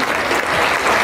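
Audience applause fills a book-fair talk with author Mónica Lavín at FIL Neza: a dense, steady wash of many hands clapping at once, loud and close, with no speech.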